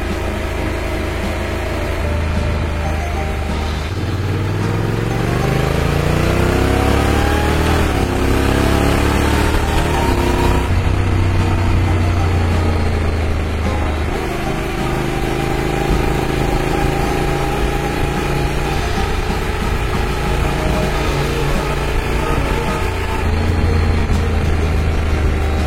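A car engine in Sport mode idles, then revs up and down in long rising and falling sweeps that stay loud and close and run without talk for about half a minute.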